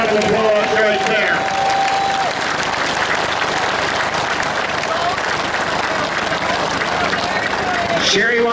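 A crowd at a benefit auction in New Vienna, Iowa claps loudly and continuously with sustained applause, and speech and crowd chatter mix in throughout.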